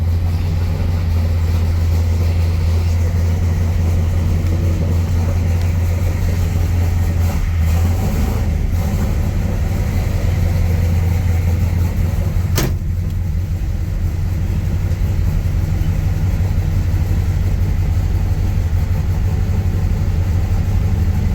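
A 1965 Chevrolet Impala SS V8 idles steadily just after starting, a loud, continuous low rumble that holds even throughout, with a brief knock partway through and no talking.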